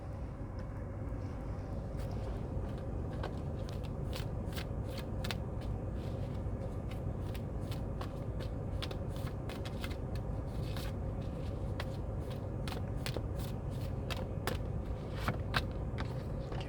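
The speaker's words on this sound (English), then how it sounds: "we could pull some more cards" Tarot cards being shuffled, a rapid run of crisp flicking clicks repeating over a steady low hum of background noise for the whole stretch.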